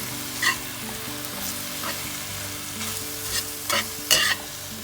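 Chopped tomatoes and tomato puree sizzle steadily in a frying pan while a utensil stirs them, giving a soft constant fry broken by a few brief scraping strokes, the last one the loudest, with no talk.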